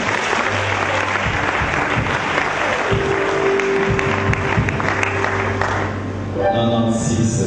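A church congregation claps loudly and steadily, dense applause filling the space, with shouting voices mixed in and a brief dip near the end before the clapping swells again.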